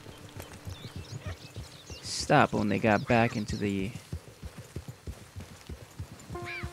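Horse hooves clip-clop in a steady walking rhythm while riding in the video game Red Dead Online, a voice talking over the light, even hoofbeats throughout.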